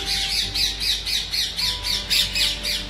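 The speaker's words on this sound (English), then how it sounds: "They are normal basic parrots." Parrots at a zoo give loud, harsh squawks in rapid repeated bursts, several calls per second, close and dominant with no speech.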